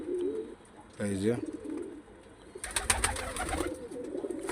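Pigeons, a pair of flying birds, cooing nearby: a low throaty coo stands out briefly, then continues among rustling and background noise as a person speaks.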